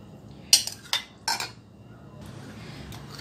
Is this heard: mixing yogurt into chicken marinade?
yes